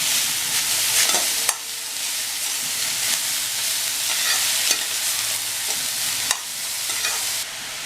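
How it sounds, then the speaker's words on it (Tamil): Grated carrot stirred into sautéed onion in a hot pan, a bright, continuous sizzle up close with a few distinct scrapes and taps of the spoon against the pan as it is turned, without speech. "துருவி வச்ச கேரட்டை சேர்த்துடலாம். சேர்த்துட்டு ஒரு பிரட்டிடலாம்."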